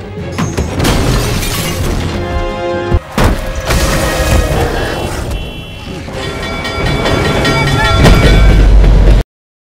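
A loud, dense crash and rumble of a passing train striking a creature in a film, with metallic clatter and booming impacts, building to a heavy roar near the end.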